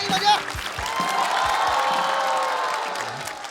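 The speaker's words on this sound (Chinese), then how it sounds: "感谢大家热情的掌声啊！" Crowd at a stand-up comedy show applauding and cheering, with a few whoops over continuous clapping and voices mixed in.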